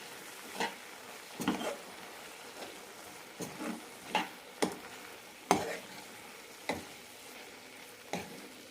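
A spoon stirs ground coconut paste into aviyal in a pan, for a Palakkad-style Onam sadhya, with soft scraping strokes and about nine brief distinct knocks spaced irregularly, fairly quiet with no talk.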